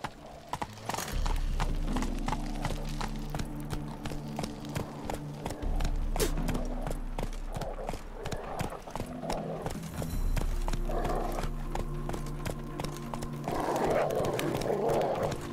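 A horse's hooves clip-clop rhythmically on the ground in the video game The Witcher 3, steady and close, with a few brief low grunts and background game music.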